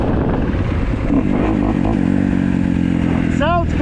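A 2015 Kawasaki KX250F dirt bike, a bike with a no-start problem, idles with a loud, steady low engine drone close by, with a short rising rev near the end.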